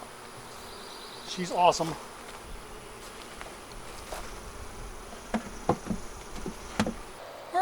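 Honeybees buzzing around an open hive as it is closed up, a steady close hum punctuated by wooden knocks and clicks of hive parts, with a brief spoken remark partway through.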